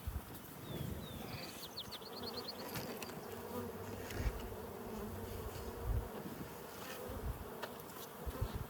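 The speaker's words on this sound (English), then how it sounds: "I already got a bee eating this pollen patty here." Honeybees buzz steadily around a pollen patty at an open beehive in Colorado, a dense close hum with individual insects flitting in and out near the listener.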